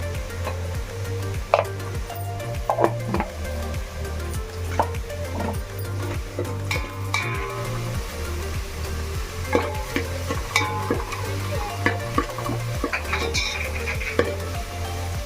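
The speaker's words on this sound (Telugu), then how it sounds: "మనం తిప్పుకుంటూనే ఉండాలి. గోల్డ్ కలర్ రావాలి ఉల్లిపాయలు." Onions fry in a pan for egg biryani while being stirred constantly toward golden, with a steady loud sizzle and a regular rhythm of thudding, scraping spatula strokes throughout.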